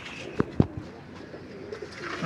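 A pigeon coos in a rooftop loft, with two sharp short bursts early on followed by quieter low cooing toward the end, fairly close, with no talking.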